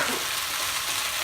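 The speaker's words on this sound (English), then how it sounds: "I'm stirring this" Vegan minestrone soup being stirred in a pot: a steady, close, soft broadband scraping and sloshing with faint sizzle, continuous and without talk.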